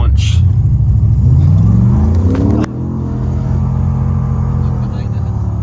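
LS V8-swapped Mercedes 190E with a 4L80E transmission launching hard: a loud rumbling engine climbs steeply in pitch, then a sharp shift drops it to a lower, steady roar as the car pulls away, with voices over it.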